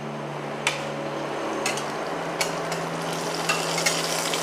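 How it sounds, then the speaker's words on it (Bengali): Panch phoron and dried red chilies fry in a little hot oil in a karahi, giving a steady soft sizzle punctuated by a few sharp ticks and pops of stirring, with no talking. "কড়াইতে সামান্য তেল গরম করে আমি পাঁচ ফোড়ন আর শুকনো লঙ্কা দিয়ে দিলাম"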